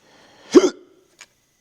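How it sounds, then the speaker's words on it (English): A single sharp hiccup from a man sounds close and loud, followed a moment later by a tiny faint catch, in an otherwise quiet room. "I got the hiccups, sorry."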